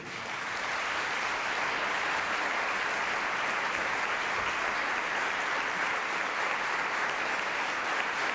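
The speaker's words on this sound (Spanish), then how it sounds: "Recibimos con un fuerte aplauso en el día de hoy" Dense, sustained audience applause welcomes a speaker at a lecture event. It stays steady and loud from start to finish with no talking.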